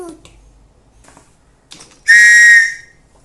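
A single short, shrill whistle blast rings out loudly after a few faint taps and a brief murmur.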